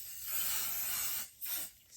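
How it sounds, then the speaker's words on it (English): Basting adhesive sprays from an aerosol can in two hissing bursts, a long steady one and then a short one after a brief pause, close and clear. "take a little bit of basting adhesive and spray it here so that the shirt will not move"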